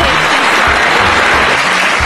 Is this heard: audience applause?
yes